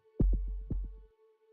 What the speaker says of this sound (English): Its heartbeat.